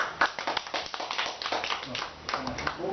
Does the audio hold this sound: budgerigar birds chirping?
no